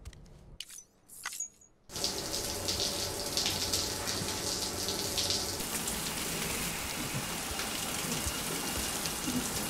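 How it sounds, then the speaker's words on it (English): A shower starts running in Death Stranding: after a few brief clicks and knocks, a steady dense hiss of spraying water switches on and continues evenly and close for the rest of the span. "Why does it say take a shower again?"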